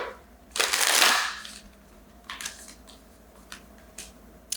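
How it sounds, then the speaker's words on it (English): Tarot cards being shuffled close by, a long riffling burst followed by several shorter, quieter flicks and taps of the deck. "Let me do another shuffle"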